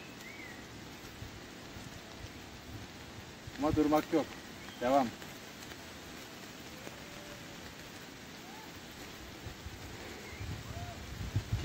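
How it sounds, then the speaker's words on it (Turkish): Steady rain patters on the leafy canopy of a forest at the İnceğiz caves picnic area in Çatalca, a soft continuous hiss with a few louder drips, while someone talks briefly partway through. "Yağmur yağmaya devam ediyor."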